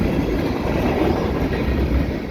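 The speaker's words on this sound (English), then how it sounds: "I got a westbound freight train here at Dorval, kicking up snow." A westbound CN freight train with a distributed power unit rolls past at Dorval in the snow, a loud, continuous rumble and rush of cars with faint wheel clatter.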